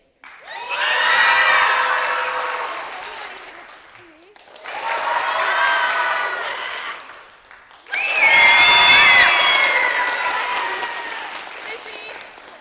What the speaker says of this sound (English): cheer loudly for the one that you want to win